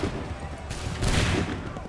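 Musket volley fire in the game Assassin's Creed 3, a burst of overlapping shots booming out in two waves amid battlefield noise, with shouted commands around it.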